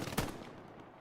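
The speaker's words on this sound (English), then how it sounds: "they just keep firing on these poor guys. They just keep firing." A single brief gunshot in the Hell Let Loose World War II shooter, a faint distant crack with a short reverberant tail.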